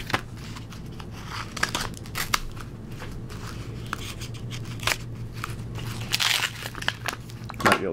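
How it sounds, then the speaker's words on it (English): A mail envelope holding trading cards is ripped open by hand. Crisp paper tears and crinkly rustling come in close, uneven bursts, with no talking. "Might be able to rip the rest of it open."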